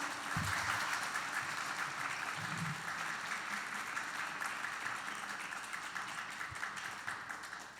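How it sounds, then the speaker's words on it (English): Audience applause for the candidates at a 2015 Hapeville city election forum, a sustained broad wash of clapping that runs the full length, loud at first and tapering slightly toward the end. "Let's give them a rousing applause."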